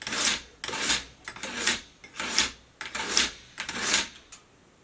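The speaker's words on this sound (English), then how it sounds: "you want to run the knife blade straight down this guide bar here" A knife blade is drawn down a sharpening guide bar in about seven rhythmic, close rasping strokes, each a swelling scrape with brief pauses between.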